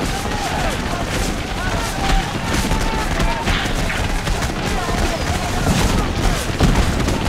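Musket volleys crackle in Take Command 2nd Manassas, a dense, continuous battlefield rattle of gunfire and booms at loud level, with a voice talking over it.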